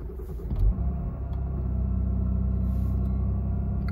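A supercharged 3.0 TFSI engine in an Audi A6, under repair with an ECU fault, cranks over and catches, then settles into a steady low rumbling idle recorded up close.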